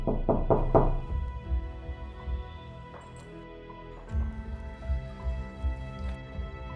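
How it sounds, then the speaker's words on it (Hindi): Several quick knocks on a door come at the start, close and sharp, then fade into a quiet room with a low hum underneath. "तभी अचानक दरवाजे पे दस्तक हुई।"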